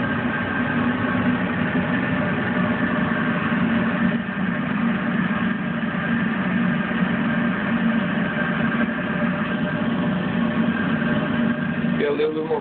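Airliner engines drone steadily through the cockpit on approach to landing at San Francisco International runway 28R, a continuous low hum with a faint tonal whine, unchanged throughout and slightly rising as power is added near the end.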